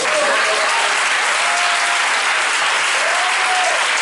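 A church congregation bursts into loud, dense applause and cheering, a sustained roar of many hands clapping close and all around, with a few voices rising through it.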